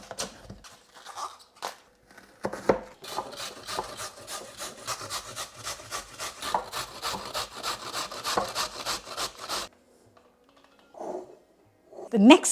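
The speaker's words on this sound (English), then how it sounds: "I'm going to use 1 carrot and half a cabbage and grate both of them into a big bowl" Carrot and half a cabbage are grated into a big bowl for coleslaw, a run of fast rhythmic rasping strokes close by, broken by short pauses and a few knocks.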